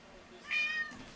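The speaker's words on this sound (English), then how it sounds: "if you heard meowing up anytime, that's one of my cats wanting some attention or food or both." A cat meows once, calling for attention or food, a short rising-and-falling cry heard fairly close against a quiet room background.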